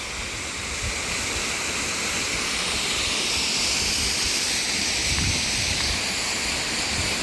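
A jungle waterfall pours in a steady, loud broadband rush of falling water that holds constant throughout, with no voices.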